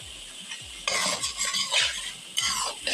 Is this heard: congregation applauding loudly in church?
no